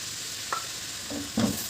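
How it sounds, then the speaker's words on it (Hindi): Garlic water hits onions frying in a pan for eggplant bharta and sets off a steady, soft sizzle, with a couple of brief stirring clinks and scrapes near the end. "अब मैं इसके अंदर लहसुन का जो पानी है वो ऐड करूँगी"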